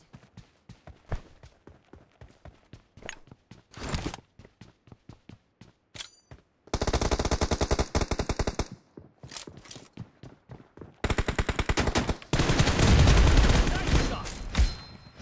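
M416 assault rifle gunfire in PUBG Mobile, a 2 vs 2 room match: scattered single footstep-like taps give way to two long, dense automatic bursts and a final heavy volley, loud and close.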